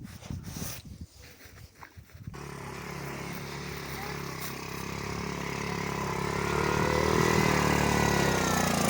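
A vehicle engine revs steadily and climbs in pitch while the wheels spin, stuck on unfrozen ground beneath frost, loud and close after a brief stretch of rustling and handling noise at the start.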